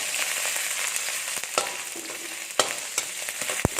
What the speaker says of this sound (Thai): โอ้กระทะจวดจวดเลยครับ กลิ่นหอมของ พริกแกง ผัดกับน้ำมันนี่ครับ